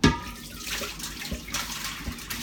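Hot water runs from a tap to rinse winemaking equipment during re-racking, a steady broadband splashing flow that carries on evenly throughout.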